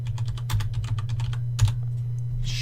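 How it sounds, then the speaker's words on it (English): Rapid clicking on a computer keyboard, quick uneven keystrokes tapping close by over a steady low hum, with no talking. "I have my cord running over my keyboard, so it's kind of hard to type in"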